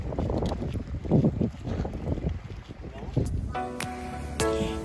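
Boat ride on the Red Sea at Hurghada, Egypt, with wind buffeting the microphone and a rushing, rumbling hull and motor throughout, a voice speaking over it early on and a tonal whine near the end.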